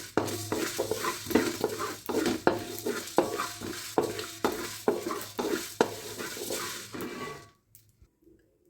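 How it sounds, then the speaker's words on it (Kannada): Cumin or similar spice seeds being stirred and dry-roasted in a pan, a rhythmic series of close scraping strokes with a faint sizzle underneath, roughly a dozen strokes before it stops. "ಈಗ ಹವೇಜ್ ಹುರ್ಕೊಳ್ಳೋಂತ."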